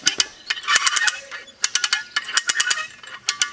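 A fence stretcher ratchets taut barbed wire on a new pasture fence, giving rapid bursts of sharp metallic clicks in quick rhythmic clusters, close and fairly loud, with no talk over it.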